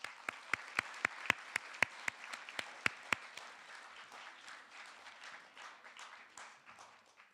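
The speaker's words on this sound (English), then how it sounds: "Now y'all can clap." Applause breaks out at a middle school fall athletic awards assembly, opening with a few sharp, close individual claps that soon give way to softer, scattered clapping from the audience.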